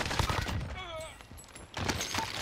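Gunfire in the video game Warzone on Rebirth Island, a quick burst of shots with a whizzing, ringing tail, mixed under a player's voice in a short, busy moment.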